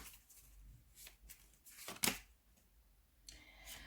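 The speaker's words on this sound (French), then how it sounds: "je vais quand même tirer une carte pour l'impératrice pour la compléter" A tarot card is drawn from the deck: a few soft, brief shuffling and sliding rustles of cards, with one sharper snap near the middle, close and quiet.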